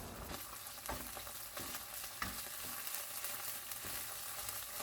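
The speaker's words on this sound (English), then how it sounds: "Add tuna and minced garlic. Stir fry until it's cooked." Tuna and minced garlic stir-fry in vegetable oil in a large skillet over high heat, a steady dense sizzle broken by several sharp scraping stirs, close and loud with no voices.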